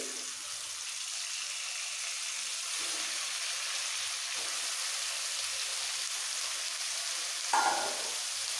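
Potato pieces sizzle steadily in a hot pan at close range, a constant crackling fry with a brief clink near the end.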